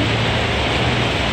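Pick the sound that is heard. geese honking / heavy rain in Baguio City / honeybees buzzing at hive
heavy rain in Baguio City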